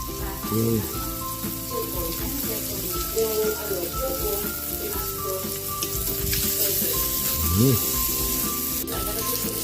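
Garlic and onion sauté in a pan for Filipino-style ginisang tahong, a steady frying sizzle with stirring and utensil clatter running throughout, fairly loud and continuous with music-like tones layered over it.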